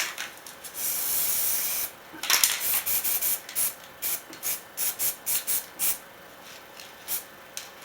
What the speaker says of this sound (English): I'm just going to spray white down first over the image.